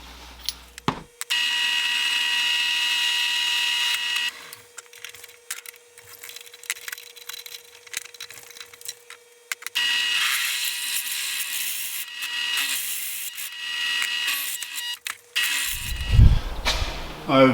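A power tool cuts through the wooden wheel shoulder of a bifold shed door in two sustained, loud bursts, each running several seconds and separated by a quieter pause, with a short knock before the first and a thump near the end.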